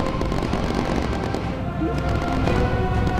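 Explosive bursts and booms from fire missiles in the World War II bomber game Bomber Crew, dense and loud throughout with crackling, firework-like blasts over rumbling engine-like noise.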